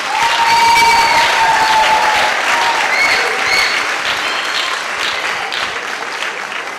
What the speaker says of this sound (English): I want you to render a very loud round of applause for our